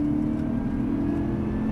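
Cadillac CTS-V accelerating hard out of a corner at Auto Club Speedway, a steady loud engine drone heard from inside the car with a rising pitch, unbroken for under two seconds.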